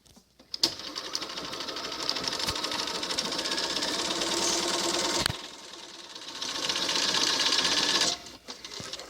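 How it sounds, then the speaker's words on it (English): A sewing machine runs a quarter-inch seam on fabric for a doll's infinity scarf, whirring steadily in two long close bursts with a brief pause between them and small clicks at the start and end. "then we're going to sew, making sure our thread is pulled back behind the machine. We're going to sew a 1/4 inch seam"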